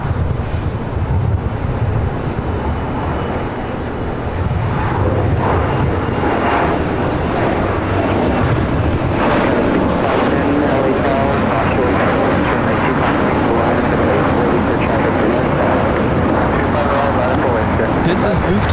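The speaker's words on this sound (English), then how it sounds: "This is Lufthansa 457 taking off to Frankfurt on the 747-8 Intercontinental Yankee Sierra" Lufthansa Boeing 747-8 Intercontinental, flight 457 to Frankfurt, takes off at LAX, a loud, sustained jet roar buffeted by wind noise on the microphone, with someone talking over it.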